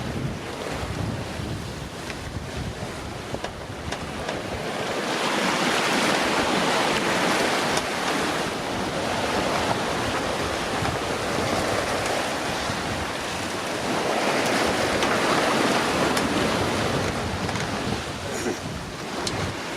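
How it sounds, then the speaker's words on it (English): Strong wind roars across the microphone while sea waves surge and wash around a yacht running on a broad reach under partial genoa in rising seas off Greece, loud and continuous, swelling in long gusts. "So the sea's picked up and we're kind of surfing down the waves, but it is throwing us all over."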